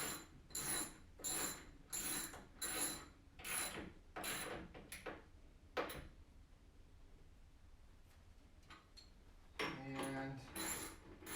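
A socket wrench ratchets in quick clicking bursts while tightening bolts during a pinball machine setup, close and distinct, several separate runs with pauses between them.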